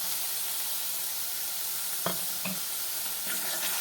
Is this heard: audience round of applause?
no